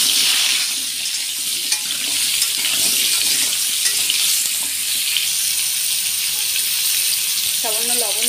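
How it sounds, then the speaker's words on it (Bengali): Potatoes for a meat curry fry in hot oil, making a steady, dense sizzle that runs unbroken at close range, with a short voice heard near the end. "মাংসের আলুটা ভেজে নেব।"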